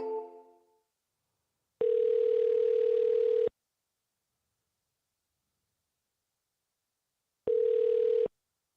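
A phone call placed by clicking a number on a LinkedIn profile, two steady electronic tone beeps, a long one then a shorter one, separated by silence and heard alone.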